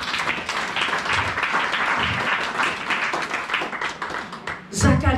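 Congregation clapping and cheering at a church service, a dense steady wash of applause and voices running throughout, with a louder burst near the end.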